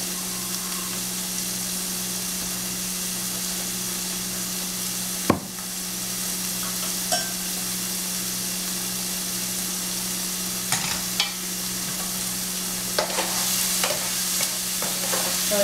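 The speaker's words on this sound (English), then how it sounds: "So it's sizzling up nicely here." Cabbage, carrots and dumpling ingredients sautéing in a pan give a steady, close sizzle, with occasional scrapes and clinks of stirring over a constant low hum.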